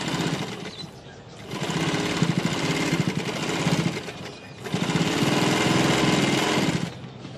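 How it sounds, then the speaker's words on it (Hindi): A sewing machine stitches a sleeve in two loud, close bursts of rapid mechanical chattering, separated by a short pause, with no speech. "अब मैं एक सिलाई इसके ऊपर लगा लेती हूँ।"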